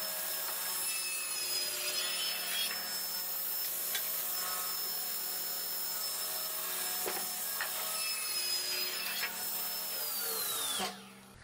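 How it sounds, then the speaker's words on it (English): A table saw cuts bevels on wooden finial blanks, a steady loud whining blade hum with the high screech of wood being cut running throughout, then the motor winds down at the end. "Now that the bevels are all cut on the table saw"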